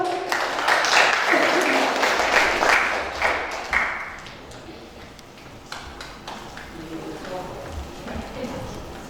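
An audience at a small talk event applauds to welcome a speaker, with dense clapping that fades after about four seconds, while a voice talks over and after it.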